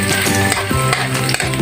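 Garlic and vegetables cook in a pan for Filipino ginataang gulay, with loud close sizzling and several sharp scraping, stirring knocks against the pan across under two seconds, no voices.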